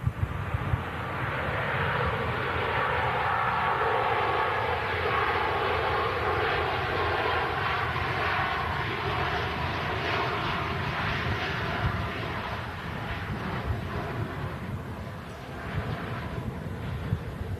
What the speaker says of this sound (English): As the first of two Ryanair's touches down here at Manchester Airport.